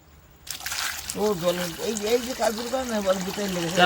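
Cut potatoes being rinsed in water at home, with steady trickling and sloshing running through the clip while someone talks over it.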